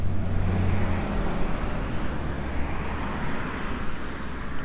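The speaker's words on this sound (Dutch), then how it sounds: "dit zijn de eerste auto's die ik hier zie rijden" Passing cars on a road beside a camper site at De Kale Duinen in Appelscha, heard as a steady roar with a low rumble that swells and then fades as they go by, and no one speaking.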